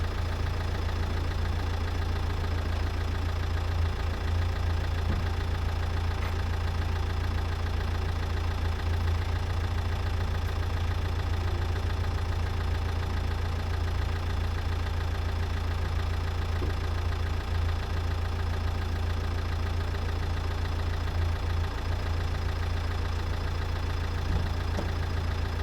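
A car engine idles steadily, with a DPF cleaner being fed in and blue smoke coming from the exhaust. The low rumble runs alone, constant and fairly loud, with a slight knocking texture throughout.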